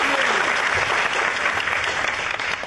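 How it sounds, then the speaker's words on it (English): Comedy club audience applauding for Tommy during a stand-up set: loud, dense clapping from the crowd that stays steady for nearly three seconds and fades slightly at the end. "Give her a round of applause for Tommy"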